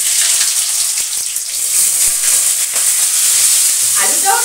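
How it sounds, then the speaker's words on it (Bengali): Boiled potatoes frying in oil in a pan over cumin seeds tempered in the oil, giving a steady close hiss and crackle with a few light stirring knocks, no talking. "আলুগুলিকে একটুখানি ভেজে নিচ্ছি।"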